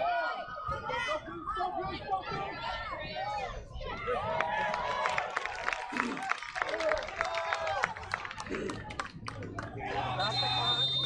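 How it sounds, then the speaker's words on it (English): Crowd noise at a college soccer match, SMU versus UCF, a murmuring stadium rumble with scattered shouts rising in reaction, heard beneath a commentator talking throughout. "Crowd wanted a call."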